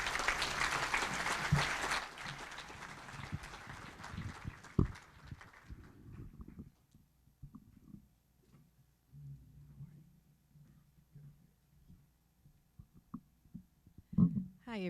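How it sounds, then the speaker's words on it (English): Dense audience applause at an annual dinner, loud and sustained for about five seconds before thinning out and fading into quiet room noise with scattered soft sounds. "Y'all, please give a round of applause for Miss Adrienne Smith."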